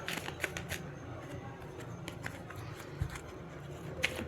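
Tarot cards being shuffled by hand, a few slipping loose and dropping, giving a soft continuous riffle with small clicks and taps, close and fairly quiet with no talk.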